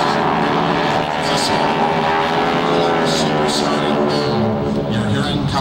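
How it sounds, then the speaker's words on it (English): Red Baron warbird propellers spun up to full RPM at a 2006 airshow, the tips going supersonic, make a loud, steady droning roar that fills the air while a voice speaks over it. "Pilot spins and spools these props up to full RPM. The tips of the propellers go"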